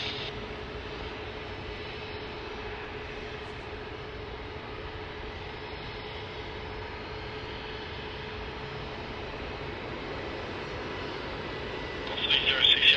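An Indonesia airliner lands on runway 34 left at Sydney Airport, its engines a steady, distant roar heard alone, with a brief louder rise at the very end.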